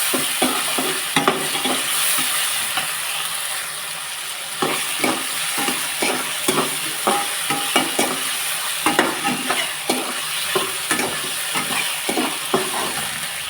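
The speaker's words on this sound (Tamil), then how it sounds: "இப்போ நம்ம தக்காளி போட்டுக்கலாம். தக்காளி நல்லா வதக்கிக்கிங்க." Tomatoes and brinjal sautéing in a pan, a continuous sizzle broken by repeated close scraping stirs at an irregular rhythm, with no voices.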